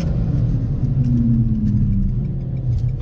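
Renault Mégane RS with 280 hp driving the front wheels, lapping a freshly repaved race track; a steady, loud low engine drone with a slight rise in pitch, continuous and close, no talk.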